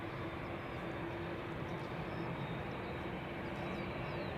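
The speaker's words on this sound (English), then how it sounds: "KLM Flight 601 is also a 787-10." A KLM Boeing 787-10 Dreamliner airliner at Amsterdam Schiphol Airport makes a steady, unbroken broadband roar that holds at an even level throughout.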